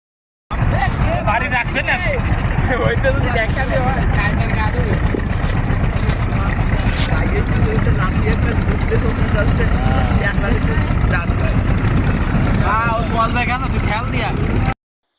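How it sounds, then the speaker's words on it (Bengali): A trawler engine with a fault, straining and unable to pull hard, runs steadily throughout with a constant low drone and water noise on a Sundarbans boat trip, while people talk over it. "আমাদের ট্রলারের ইঞ্জিনে একটু সমস্যা থাকায় বেশি জোরে টানতে পারছিল না"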